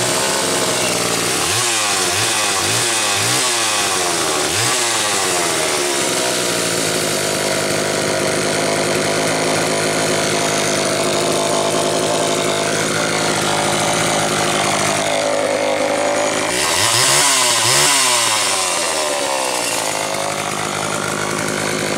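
A Homelite Super VI 200 chainsaw without a decompression valve, tuned slightly rich, gets a few rhythmic pull-start tugs, then fires and runs at a close, steady buzzing idle before revving up sharply near the end.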